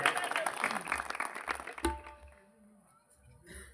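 Audience applause breaks out for a speech, a burst of dense clapping that is fairly loud at first, then thins and fades away into near quiet.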